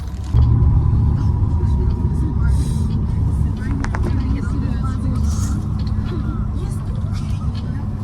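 Steady low engine rumble and road noise fill the cabin while riding a bus toward Melbourne, continuous and close throughout, with occasional faint rattles and a voice speaking over it.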